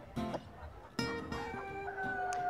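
Chickens in the show poultry section of the Nantwich Show crow and cluck close by, with a few overlapping calls and a drawn-out crow layered over a light background murmur.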